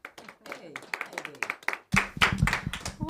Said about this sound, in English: Everybody give Heidi a round of applause.